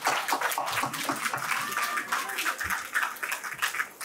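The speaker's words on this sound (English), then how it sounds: "One last round of applause for them." An audience applauds steadily at the closing of a winter workshop, a dense patter of many hands clapping at moderate distance for several seconds.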